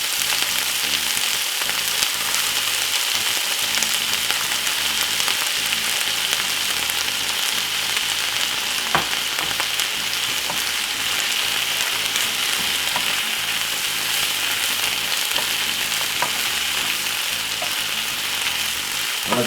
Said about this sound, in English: put in my prawn. I want to get that lovely fried flavor from it